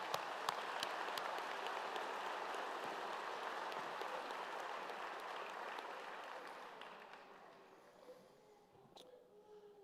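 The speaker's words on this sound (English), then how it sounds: "Let's have another round of applause for the pastor." Audience applause at the 2023 Cape Cod Community College commencement ceremony, a dense wash of clapping heard from a distance that holds steady and then gradually fades toward the end.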